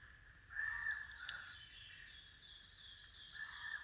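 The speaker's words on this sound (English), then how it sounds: "There's a raven in the background, do you hear that?" A raven caws several times from a distance in the background, its harsh calls drawn out over a quiet, faint outdoor ambience.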